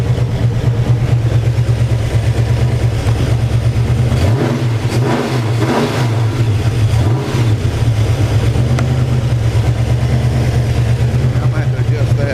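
A 481 cubic inch big block Chevy V8 with freshly set timing runs loud and close at a rough, steady idle, with a couple of quick blips of the throttle in the middle.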